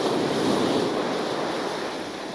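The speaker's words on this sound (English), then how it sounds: "I feel like the waves are really, really noisy" Sea waves break on the shore at the back of an island on the English Channel, a loud, steady roar of surf and wash filling the whole stretch with no voices.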